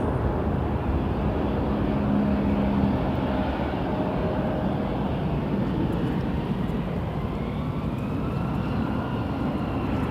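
An Embraer 175 jet at Toronto Pearson airport produces a steady, distant broadband roar of engine noise that holds evenly throughout, with a faint tonal whine early on and no voices.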